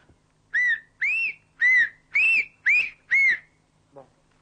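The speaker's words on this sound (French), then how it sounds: "voulez-vous siffler pa," Pyrenean whistled-language syllables, a pa-pi-po-pe-pou-pon series, come as six clear, evenly spaced whistles. Each is a short gliding tone, followed by a faint click.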